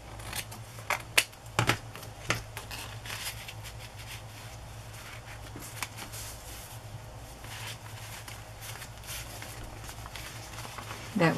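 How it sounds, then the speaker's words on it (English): Scissors trim a card cut from a children's book for a domestic arts journal, with a handful of sharp, close snips near the start and then softer, fainter cuts and paper rustles. "I think I'm going to trim a little bit off it so it fits in better"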